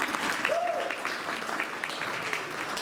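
Audience at a live, in-person annual heritage center meeting claps steadily for a few seconds, a dense patter of many hands, with a brief voice-like tone rising near the start.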